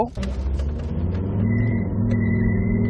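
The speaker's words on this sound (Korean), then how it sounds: "이 차량 한번 가속 테스트 한번 해봐야죠" A Volvo XC60 D4 SUV accelerating hard from a standstill during an acceleration test on a painted floor. A close, steady engine drone swells and holds, with a thin high whine riding over it in the later part.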